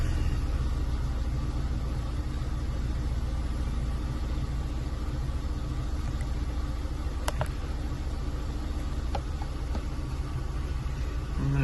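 A 2010 Nissan Micra 1.2 Acenta petrol engine idling steadily after starting, a low, even rumble close by with a couple of faint clicks and no talk.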